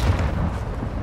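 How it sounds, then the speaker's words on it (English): Missile strikes in the Call of Duty Modern Warfare II Spec Ops mission Denied Area, a dense, loud low rumble of explosions that fills the whole short moment without any voices. "Breaker, I have missiles incoming."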